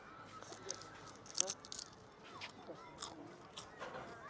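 Crunchy bites into freshly fried potato chips made on the spot at a market stall in Rize, Turkey, giving a few loud close crunches amid chewing, with faint background voices.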